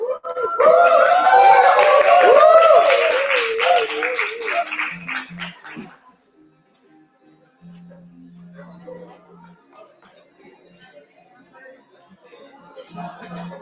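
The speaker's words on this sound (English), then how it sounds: "Give a big clap for Ronya" Audience clapping at the IAAS World Congress general assembly, mixed with cheering voices and chatter for about six seconds before fading to quiet, with sparse talk afterward.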